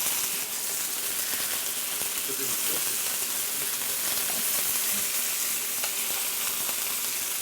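Cucumber and chicken stir-fry in a tilted wok, browning on one side, gives a steady close sizzle and crackle that holds evenly throughout with occasional stirring clicks, no voices.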